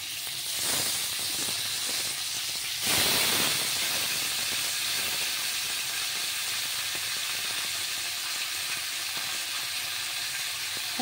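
Pomfret fish slid into hot oil with chopped onion for a Bengali tel jhaal, giving a loud continuous hiss and sizzle with a sharp surge of spattering as the fish hits the pan, then steady frying.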